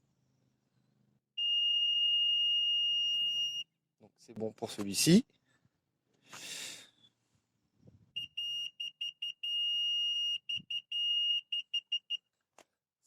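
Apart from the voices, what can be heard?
budget reversing radar parking sensor beeping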